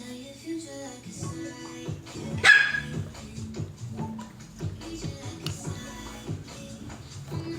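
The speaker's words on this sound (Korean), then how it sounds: "멍멍이 있어 엄마" A puppy barks and yips in short irregular bursts close by, with scuffling and shuffling movement between the barks and a sharper cry in the middle.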